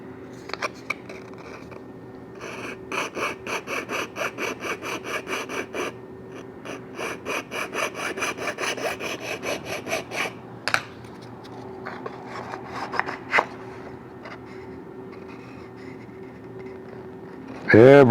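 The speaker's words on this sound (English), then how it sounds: "filing as level as possible" Hand filing of wood to level a balsa-type part against a model airplane keel: a run of quick, regular rasping strokes through the middle, then sparser scrapes, with soft breathing and a brief voice at the end.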